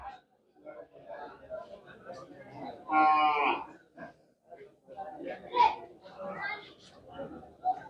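Cows lowing at a busy cattle market, one loud moo standing out amid a murmur of people talking and children's voices nearby.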